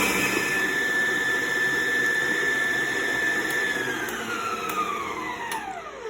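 A stand mixer whirs steadily as it mixes cinnamon applesauce pound cake batter, its motor whine holding constant and then falling in pitch as it winds down near the end, with no talking.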